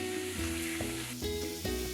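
Veal tenderloin roasting in a pan sizzles and crackles steadily, loud and close, with a few soft scrapes or stirs and no voices.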